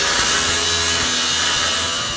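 An angle grinder cuts through a steel floor with a continuous loud, harsh abrasive roar, steady and close throughout.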